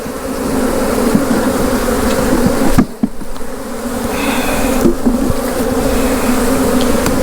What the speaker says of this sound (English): So we're shaking all of these bees off